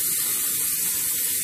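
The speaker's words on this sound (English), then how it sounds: "So, spray this motherfucker down." Cooking oil sprayed onto a heated pan, a steady loud hiss running unbroken for the full moment with no talk over it.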